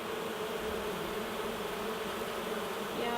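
Bees buzz steadily around a hive, a dense, continuous drone close to the microphone with no pauses.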